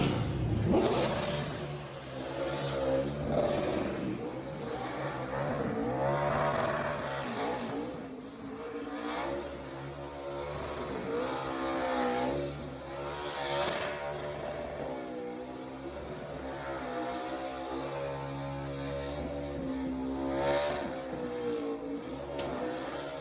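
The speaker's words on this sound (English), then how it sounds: "Let's check out his burnout." A NASCAR race car does a victory burnout at Charlotte on Memorial Day race weekend, its engine roaring and revving in long waves over steady crowd and track noise, heard from a distance.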